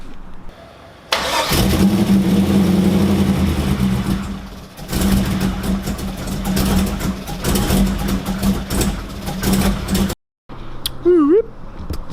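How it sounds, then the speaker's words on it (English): Corvette engine with a missing MAP sensor cranking and catching, running rough and loud for several seconds, cutting out, then catching again, with voices talking nearby. "Corvette is about ready to fire up"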